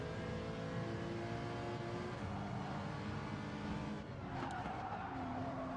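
A racing car in Gran Turismo 7 slides under the handbrake, its tyres squealing loudly over a steady engine drone, with a brief change of tone near the end.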